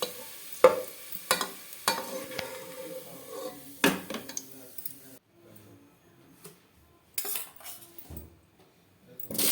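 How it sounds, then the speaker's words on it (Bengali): Sliced onions fry and sizzle in a pan as a utensil stirs them, with sharp repeated metallic scrapes and clanks, while cooking a biryani-style khichdi. Quieter pauses follow, with a few more close clatters. "এই পেঁয়াজটা ভাজা ভাজা হয়ে গেলে আমি তুলে রাখবো"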